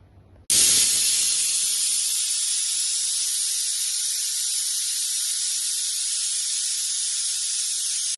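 A pressure cooker cooking dal for a Telangana-style pappucharu lets out a loud, steady steam whistle that starts abruptly and hisses continuously without a break to the end.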